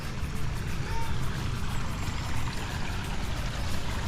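Water trickles steadily through a garden water feature at a café in central Chiang Mai, a continuous close splashing flow with broadband hiss and low rumble, no pauses.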